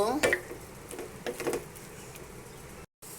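Malabar spinach is stirred in a hot pan, giving a few brief scraping, sizzling strokes in the first second and a half, then a quiet steady background.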